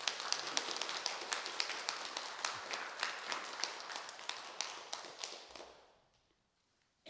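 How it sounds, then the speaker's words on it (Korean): A church congregation applauds in encouragement, a dense, steady patter of many hands clapping at moderate distance that carries for several seconds, then fades quickly into silence. "하영이를 위해서 한번 격려의 박수를 보내주시죠."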